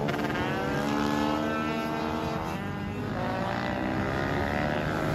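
During a supermoto motorcycle race, an engine drones loud and continuous at close range, its pitch sweeping up and down as the bike accelerates and shifts, with no voices over it.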